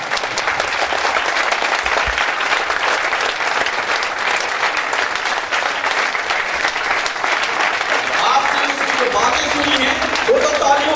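A seated audience claps continuously throughout at a public gathering, a broad, even wash of applause that never lets up, with a voice faintly audible beneath it near the end.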